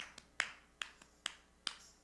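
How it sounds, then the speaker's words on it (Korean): Hands clapping along to the beat at a youth worship service, about six sharp evenly spaced claps, fairly faint and alone. "그 다음에 손뼉 쳐 이렇게"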